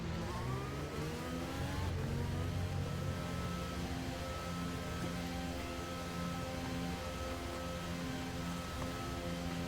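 F1 race cars in an F1 video game at the French Grand Prix, driving slowly to the grid, several engines droning and revving together in a steady, faint layered hum, with no voices.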